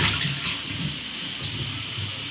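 Running water splashes steadily while soaked rice and lentils are rinsed for idli batter, a continuous close hiss and gush with no talking.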